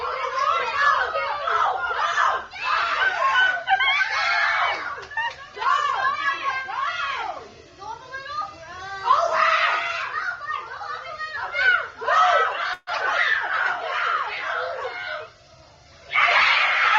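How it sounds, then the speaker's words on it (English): Crowd of children screaming and shrieking with excitement, high-pitched voices in loud overlapping bursts that rise and fall throughout, with a brief dip near the end. "I'm sure they heard that screaming in all the states"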